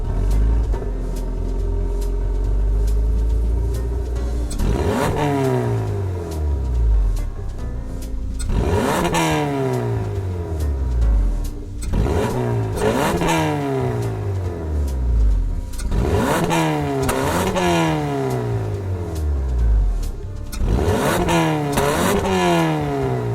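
A Hyundai Elantra N in Gran Turismo 7 revs hard through about five loud bursts, each one sweeping up in pitch and dropping back between gear pulls, with no voice over it.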